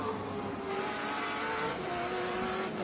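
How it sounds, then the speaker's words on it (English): Onboard a race car at the SpeedTour All-Star Race at Lime Rock Park, the engine roars loud and steady throughout, its pitch shifting as the driver works through gear changes and gets back on the throttle. "how much he's working that car, changing the gears, getting on the acceleration"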